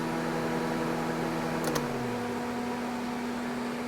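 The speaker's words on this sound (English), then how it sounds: "So this one, the radiator fan," Radiator cooling fan on a Honda Civic running with a steady whirring hum and airy rush, pitch slowly dropping partway through as it begins spinning down, with no talking.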